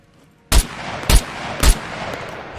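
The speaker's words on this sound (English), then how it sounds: "So we're going to have a look at the AKS-74U. So this is this is with the suppressor. Without the suppressor." Unsuppressed AKS-74U rifle fire in the video game Scum: three loud, sharp single shots spaced roughly half a second apart, each with a brief booming tail, heard alone with no talk.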